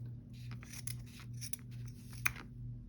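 Guggenhein scissors cut through thin, flexible denim at the bottom of a pair of jeans, giving a few soft snips over a low steady hum, one snip sharper than the rest, with no voices.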